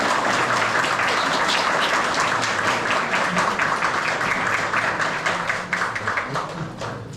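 Audience applause at a visual arts exhibition evening, a dense, steady crackle of many hands clapping for the full stretch before thinning and fading toward the end.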